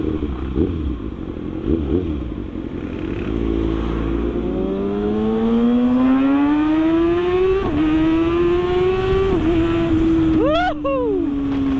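A Kawasaki ZX-6R sport motorcycle accelerating hard with a quick shifter, engine pitch climbing steadily with quick snapping gear changes, then a final rev rising sharply, loud and close.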